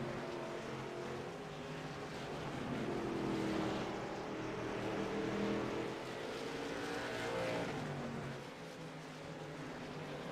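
Pro Late Model race car rounding turns 3 and 4 on the short oval at South Boston Speedway: a steady, loud engine roar with a harmonic drone that swells and fades slightly as the car passes, with no voices.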